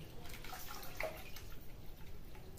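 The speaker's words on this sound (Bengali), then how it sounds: "এখন হাফ লিটার দুধ এটাতে দিয়ে দিচ্ছি" Half a litre of milk is poured onto freshly grated coconut in a pot. The liquid makes a soft, continuous close splashing trickle with a few faint drips, and no one speaks.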